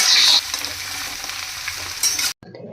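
Grated carrots being fried and stirred in a pan for carrot halwa, a steady close sizzle with scraping stir strokes, louder at the start and again near the end before a sudden cut to near silence.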